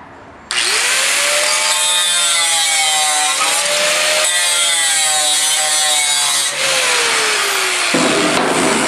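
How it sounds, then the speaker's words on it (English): A power grinder works on the side of a tank box, starting abruptly and running loud and steady with a whining pitch that shifts as it bears on the metal, then easing off briefly before carrying on. "I gotta go back and grind some once in a while. Like right now."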